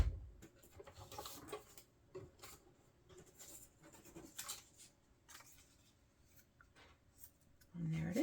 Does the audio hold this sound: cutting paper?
yes